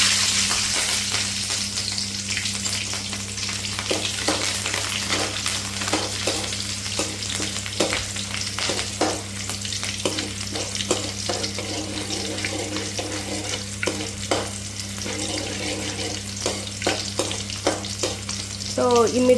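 Green chillies, onions and tomato sizzle steadily in a hot pan for a Rayalaseema uggani, with a constant frying hiss broken by scraping stirs of a spoon and a low steady hum behind.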